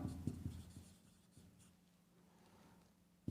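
Pen or marker scratching on a board or paper while a diode figure is drawn by hand, with a few brisk strokes at the start, quieter scraping through the middle and a final stroke at the end.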